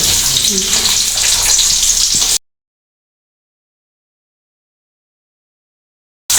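Loud hissing sizzle of tempering spices frying in hot oil in a pan for kottu roti, close up, lasting a couple of seconds before cutting to silence.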